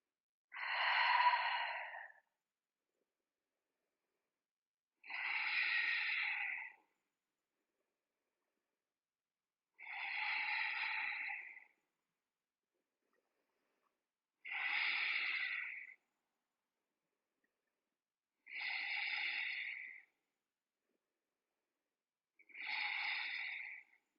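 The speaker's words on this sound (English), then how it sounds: "We'll take 10 breaths." Six slow, deep breaths during a yoga flow for runners, each a long airy exhale of about two seconds separated by quiet pauses, close and clear with no talking.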